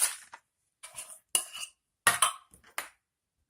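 A container of sumac seasoning is handled and opened close up, making a few short clicks, taps and light plastic rattles separated by brief silences.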